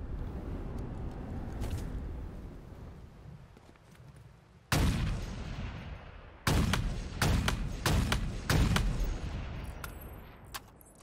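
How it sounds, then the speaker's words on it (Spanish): Loud sniper rifle shots in Halo Infinite blasting a propaganda tower, a sharp report near 4.7 s followed by a rapid run of heavy cracks and impacts from about 6.5 s to 9 s, all over a steady game ambience. "Voy a utilizar el francotirador que conseguimos para destruirla."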